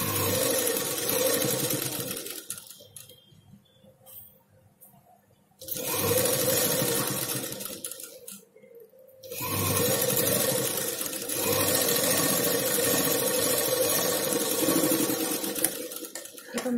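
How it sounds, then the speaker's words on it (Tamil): A sewing machine stitches lining cloth onto a nighty puff sleeve. It runs in loud, steady bursts of rapid whirring, broken by two quiet pauses before it starts again. "முனையில் வச்சுட்டு இதே மாதிரி மேலாப்பில் வச்சு தைச்சிட்டு வரணும்."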